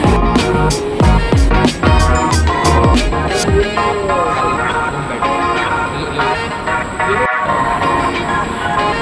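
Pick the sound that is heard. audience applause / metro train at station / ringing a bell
metro train at station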